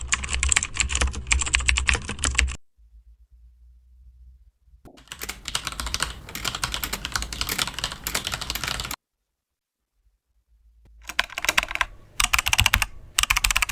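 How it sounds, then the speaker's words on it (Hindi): Mechanical keyboard keys clack in rapid, dense bursts of typing, loud and close, with two clear pauses of near silence between the runs and no voices. "ये वाला अच्छा है, मैकेनिकल कीबोर्ड है ना।"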